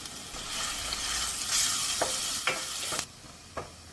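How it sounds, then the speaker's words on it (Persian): Grated onion in oil sizzles steadily with a bright, hissing crackle, broken by a few soft scraping stirs near the microphone. "یه پیاز متوسط رو رنده می‌کنیم و با 2 قاشق روغن کمی حرارت میدیم"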